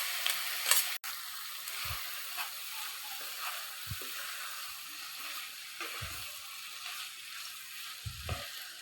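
Schezwan noodles stir-fry in a pan with a steady, soft sizzle and a few low thumps and scrapes of stirring at intervals, fairly quiet and with no voices.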